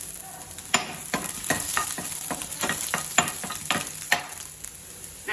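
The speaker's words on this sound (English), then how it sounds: "add finely chopped garlic" Finely chopped garlic frying in oil in a pan, a steady close sizzle with repeated scraping stirs throughout.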